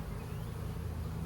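Honey bees drone steadily around a hive just after its lid is put back on, a dense continuous buzz that stays close and even throughout.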